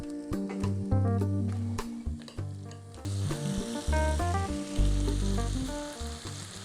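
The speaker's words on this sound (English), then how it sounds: "So I'm just spreading the oil all over, and in here place the potatoes" Potatoes fry in oil in a pan for an aloo gobi dish, with a continuous crackling sizzle and occasional stirring scrapes, close and loud over background music.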